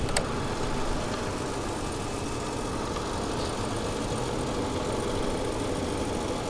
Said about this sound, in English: That engine sounds really good.